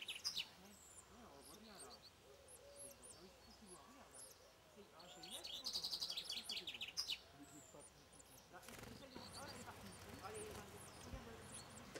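Common chaffinch song and scattered chirps in an outdoor setting, faint and distant under a person talking steadily throughout.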